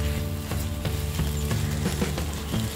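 Paneer pieces fry in ghee in a pan, a constant close sizzle broken by regular clicking scrapes of a spatula that work the pan at a steady rhythm.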